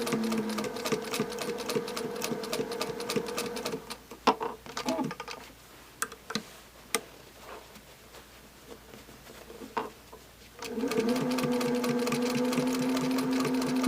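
An antique straight-stitch sewing machine runs along quilt binding in fast, even bursts, stopping for a few seconds with scattered clicks before resuming steadily; close and loud.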